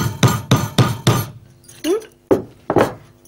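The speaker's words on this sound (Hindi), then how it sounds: "इस कील को हम फिर से लगा देते हैं" A hammer drives a nail back into place with four sharp, evenly spaced metallic strikes, then two more blows after a brief gap. The hits are loud and close.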